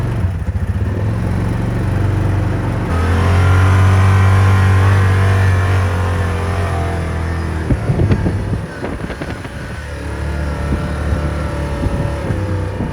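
A 2014 Yamaha Viking side-by-side on a test drive, its engine droning steadily then rising in a loud, sustained rev, with wind buffeting the microphone and some rattling bumps near the end.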